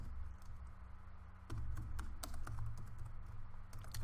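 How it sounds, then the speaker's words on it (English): Quiet typing on a computer keyboard, a run of irregular light key clicks that grows slightly louder and busier partway through, heard alone close up. "you start typing the text that you want"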